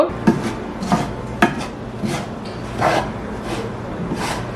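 Flour for Sri Lankan sugar pittu is stirred and turned while dry-roasting in a pan, giving a steady scraping and rasping of a utensil against the pan with several sharper knocks. There is no talking.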